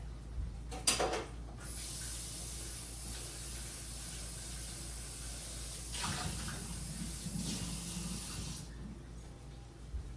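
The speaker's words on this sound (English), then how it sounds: "I'm gonna wash this bowl that the potatoes came out of" A kitchen bowl that held potatoes is rinsed under a running tap, a steady close hiss of flowing water lasting several seconds, with a few clatters at the start and middle.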